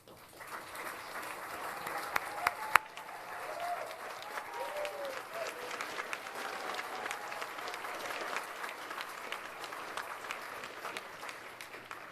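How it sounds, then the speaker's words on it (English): Sustained applause from an audience standing at a film festival awards ceremony fills the room, steady clapping that carries on for several seconds with faint voices beneath. "Please stand up and let's give them a round of applause."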